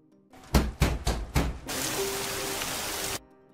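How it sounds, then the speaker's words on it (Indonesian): Heavy rain comes in as a sudden, dense, steady roar lasting a couple of seconds, after several loud knocking thumps. "Hingga cuaca hujan deras"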